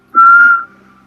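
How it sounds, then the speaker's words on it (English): A man whistles a single short, steady note that is clear and close, then it fades out into near silence. "Without realizing it, he whistled softly."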